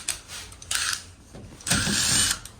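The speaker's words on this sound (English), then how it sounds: "Get the 1/4 inch on the impact gun" An impact gun fitted with a 1/4 inch socket runs in a few short bursts, whirring and rattling near the mic, the last burst the longest and loudest.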